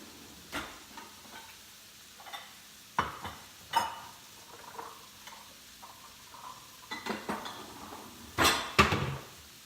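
A bowl is pulled out in a home kitchen while a sweet salsa chicken salad is being made: scattered ceramic clinks and knocks, sharper near the end, with no talking.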